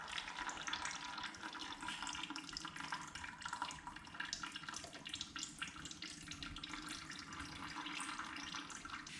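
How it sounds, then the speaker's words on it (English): Fuel drains steadily from the float bowl of a 2019 Yamaha TT-R 110 dirt bike carburetor, a continuous trickling, splashing liquid stream that stays close and even throughout. "drain the fuel out of the bottom of the float"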